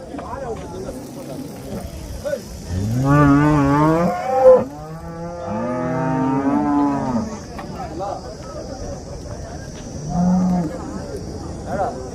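Calves at a cattle market in Chintamani, Karnataka, give two long, loud harmonic moos in a row, with a fainter low call later, amid a crowd murmur and a high background whine.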